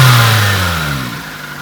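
A 1998 Nissan Primera SE with a 2-litre engine and automatic gearbox runs close by, a smooth low hum that settles from a slight rev toward a quiet idle.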